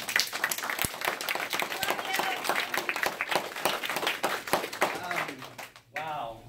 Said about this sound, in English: So you guys need to give him a round of applause,